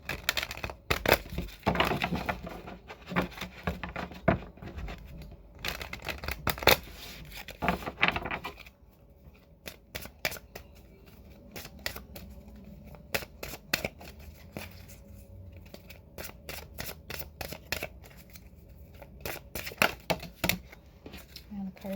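Tarot cards shuffled by hand during a weekly reading: quick, crisp riffling clicks and flutters arrive in dense bursts, then scattered snaps as cards spill out, with some talking faintly underneath.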